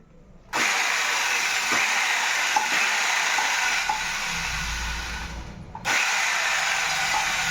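A 5 kg electric chipping machine, a demolition breaker fitted with a replacement switch, runs with a loud, steady buzzing hammer. It cuts out briefly near the end, then starts up again.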